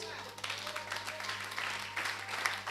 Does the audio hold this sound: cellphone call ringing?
no